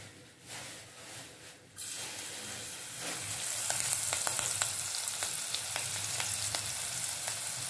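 Chopped green chili drops into hot oil with garlic for a gavar sabji, setting off a steady sizzle that swells after a quiet start, with light spatter pops and a few ticks of stirring, close by and without speech.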